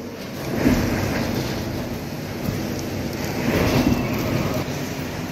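Heavy typhoon rain from Typhoon Uwan pours down in Bicol as a dense, continuous roaring hiss, with gusty swells of wind rising and falling throughout and no talking.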